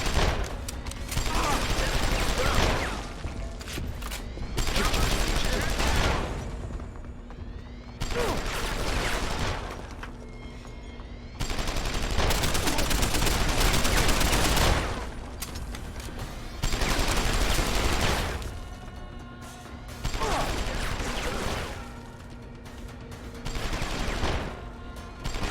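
Gunfire in Deus Ex: Human Revolution: loud, dense automatic bursts of several seconds each, broken by short pauses, repeating about five times.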